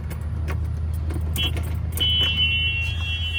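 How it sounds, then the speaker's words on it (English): A golf cart's reverse buzzer, armed with the key switched into reverse, sounds a steady high electronic tone that starts briefly then holds continuously over a low idling hum. "So the buzzer is on."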